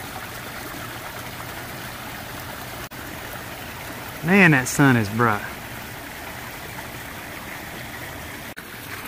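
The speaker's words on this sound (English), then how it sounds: "Take a look at some of these cascades from this angle. We've got water coming all the way across there." Water cascading steadily over a koi pond waterfall beside a pool, a continuous broad splashing rush throughout, with someone briefly speaking over it midway.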